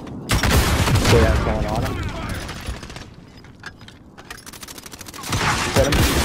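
Bursts of automatic gunfire in Call of Duty Warzone crack in dense volleys at the start and end, with a quieter gap between and a player's voice speaking over the shots.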